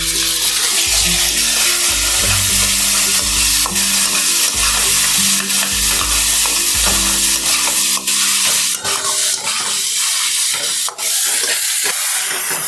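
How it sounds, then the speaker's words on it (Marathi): Finely chopped tomatoes hit a pan of browned fried onion and are stirred and sautéed, giving a steady close sizzle with scraping spatula strokes throughout, no talk. "आपण याच्यामध्ये टोमॅटो घालून घेऊयात बारीक चिरलेले"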